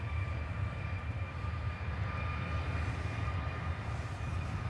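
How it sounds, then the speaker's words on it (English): A Ryanair jet departs Dublin Airport for Manchester, giving a continuous low rumbling engine roar with a faint steady whine above it, constant in level and without talk. "Ryanair off to Manchester."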